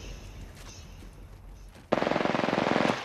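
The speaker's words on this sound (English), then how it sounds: "Shots fired, and they're hitting me." Rapid automatic gunfire from an Apex Legends match bursts in suddenly and loudly after a stretch of quieter game ambience, a dense stream of shots running for about a second before cutting off.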